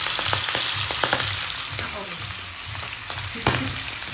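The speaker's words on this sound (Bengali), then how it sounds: "আমি বোয়াল মাছগুলো ভেজে নিচ্ছি।" Boal fish fry in hot soybean oil with a dense, loud crackling sizzle and scattered sharp pops of spattering oil, close and continuous.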